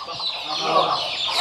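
Native country chickens on a small farm cluck in quick, overlapping calls, close and fairly loud, in a short continuous burst.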